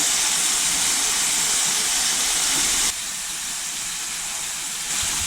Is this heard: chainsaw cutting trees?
no